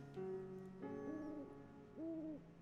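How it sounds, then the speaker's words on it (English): An owl hoots softly in a calm, quiet scene, giving a few rising-falling tonal calls over a steady low drone, fairly clear but not loud. "There is an owl hoot, and the sound of flapping wings as this white owl"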